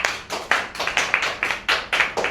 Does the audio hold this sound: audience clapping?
yes